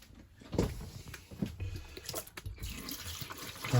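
Cleaning solution tipped down a motorhome kitchen sink drain, uneven gurgling splashes and liquid pours with a few knocks and clatters, close by and without voices.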